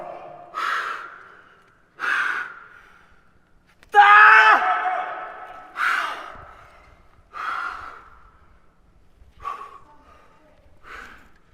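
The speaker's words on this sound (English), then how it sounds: "there's some power screaming going on as you're kind of going around this bulge here at the end" A climber power screams while climbing the 9c route Silence, letting out seven loud, effortful shouts and grunts at a steady rhythm about two seconds apart. One longer, strained tonal scream comes in the middle.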